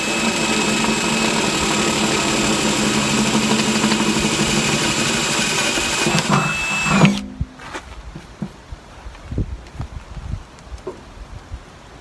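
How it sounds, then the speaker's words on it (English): Power drill boring a 9mm hole through steel on a MAN 8.136 G90 overland truck, a loud steady whine for about seven seconds before stopping abruptly, followed by scattered clanks and handling noises. "I'm going to put the 9mm hole in it"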